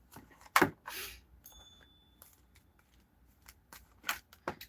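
Tarot cards are shuffled in quick, crisp bursts of riffling and flicking, separated by short quiet gaps.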